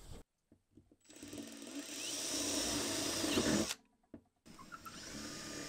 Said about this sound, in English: Sam got to work drilling out the hole for the switch to the hot water system